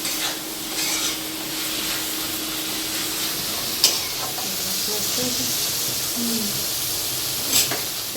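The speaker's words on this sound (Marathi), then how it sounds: "आता हे पाच एक मिनटं थोडं परतवून घेते" Grated raw mango being stir-fried in a pan, giving a steady soft sizzle and hiss with occasional faint scrapes and taps of a spatula, close but fairly low in level.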